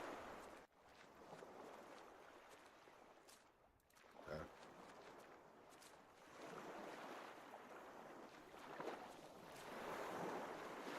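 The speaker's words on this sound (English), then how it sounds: "I can hear the waves lapping." Gentle waves lap against a shore in the point-and-click horror game The Last Door, a steady washing surf with faint wind, swelling and easing over several seconds with no talk.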